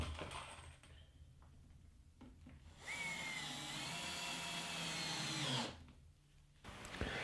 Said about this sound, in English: Then they're screwed together, making sure the screws are all well countersunk in.